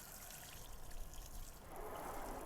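An expandable garden hose nozzle on its shower setting sprays water in a soft, steady hiss that grows a little fuller partway through, quiet and without voices.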